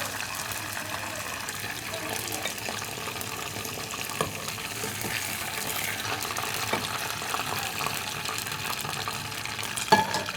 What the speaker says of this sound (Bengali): নেক্সট সেম প্রসেসে আমরা বাকি চিকেনগুলো ভেজে নেব